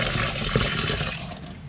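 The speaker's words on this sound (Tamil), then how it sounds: "இப்போ இந்த அவலையும் கழுவி எடுப்பேன்." Red poha, flattened rice, is rinsed in water, giving a close continuous splashing and sloshing wash of liquid that tapers off slightly at the end.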